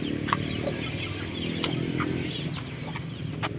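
A black Jolohano hen clucks softly in short bursts over a low, steady rumble of outdoor background noise.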